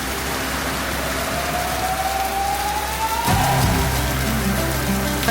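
Steady heavy rain pours down outside a home and RV in the outer band of an approaching storm, with gutters overflowing. It is a dense, loud hiss throughout, a faint rising whine in the background, and a low rumble joining later.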